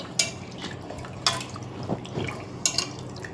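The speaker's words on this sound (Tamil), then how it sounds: "இப்போ 3rd டைம் வாஷ் பண்ணிட்டு இருக்கேன்" Cabbage is swished in a basin of water, with a few sharp splashes and light dripping spaced apart, close and fairly quiet with no talk.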